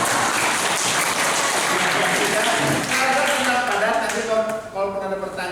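Applause at a youth reproductive health seminar, a dense wash of clapping from the audience that thins and fades toward the end as voices begin to emerge.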